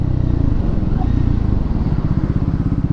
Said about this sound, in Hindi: मैं लेके जा रहा हूँ 60 पे और यहाँ पे मैं दे रहा हूँ रियर ब्रेक